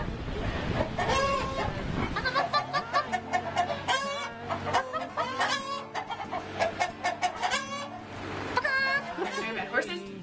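Several farmyard chickens cluck and squawk close by in uneven bursts, with a rooster-like crow among them, some calls overlapping, sounding alone without speech.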